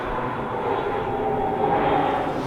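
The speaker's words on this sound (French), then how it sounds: "il est possible qu'on entende, voilà comme maintenant là, qu'on entende des avions tout au long de la soirée" An airplane passes overhead at night as a loud steady engine roar that swells slightly and holds throughout, alone without talk.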